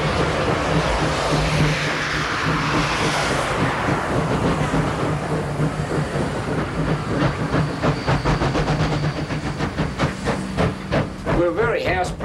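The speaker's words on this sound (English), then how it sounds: "sometimes, just for fun, 2 engines will be coupled to the same train" Two steam locomotives double-heading a train on the Zig Zag Railway in the Blue Mountains, New South Wales, hiss and chuff loudly up close, the exhaust beats quickening into a rapid rhythm as the train works hard.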